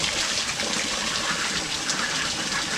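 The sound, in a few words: water being poured for ducks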